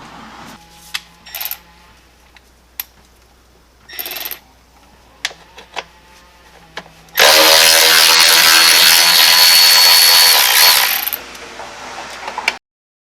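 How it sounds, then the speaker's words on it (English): A few scattered clicks and taps give way to a loud, close power-tool whir lasting about four seconds, loosening 10mm bolts during an LT4 supercharger install on a car engine. "So now we're going to start removing these 8"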